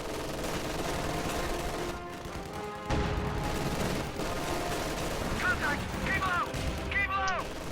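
Heavy .50 caliber machine gun fire in a World War II real-time strategy match, with dense sustained bursts of gunfire and booms throughout, a louder blast near three seconds, and brief chirping effects toward the end.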